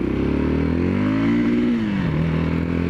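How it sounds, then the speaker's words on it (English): A 2013 Yamaha MT03 motorcycle engine revs hard and close, its loud droning pitch climbing then abruptly dropping as the rev limiter cuts in. "See, that's that really, really short rev limit kicking in."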